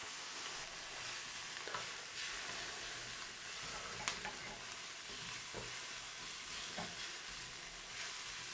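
Onions, chili, bell pepper and garlic fry in a pan in Senegal, making a continuous close sizzle with occasional stirring scrapes and light clinks.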